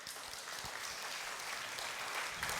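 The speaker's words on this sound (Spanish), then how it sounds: "¿Cuánto les da un fuerte aplauso al Señor por eso?" A church congregation applauds with a dense, even wash of clapping that holds steady for the whole stretch, heard from a moderate distance with no voices over it.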